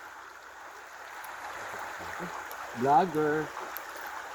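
River water flows steadily in the background as people prepare to wade across a mountain river, the broad rushing wash running under a brief spoken word.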